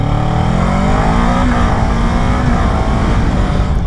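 Kawasaki Ninja 7 Hybrid motorcycle pulling hard in boost mode under fully manual shifting, its loud, close engine note climbing steadily in pitch as it accelerates without a break.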